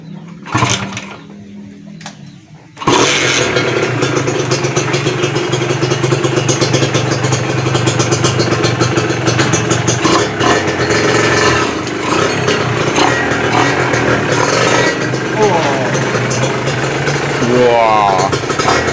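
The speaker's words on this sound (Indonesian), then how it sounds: "Kita coba dulu, nyalakan mesinnya." Kawasaki Ninja motorcycle engine cranking, then catching about three seconds in and settling into a loud, continuous close idle with clattery mechanical texture.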